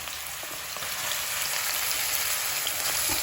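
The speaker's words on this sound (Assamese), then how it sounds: "প্ৰথমতে মই এইখিনি মাছৰুমটো ভাজি ল'ম" Raw mushrooms fry in hot oil over a lowered flame, a steady, close hiss of sizzling with light spattering crackles that grows slightly louder, no talking.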